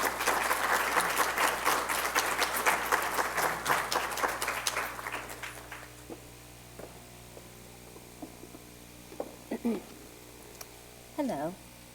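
Audience applause welcoming lecturer Miya Ando at an art lecture, steady clapping from a crowd for about five seconds that thins out into room hum, with a few scattered sounds after.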